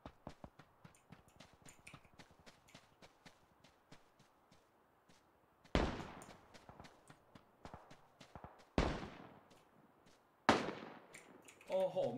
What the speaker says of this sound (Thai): ที่ขวาก็ยิงกันจังเลย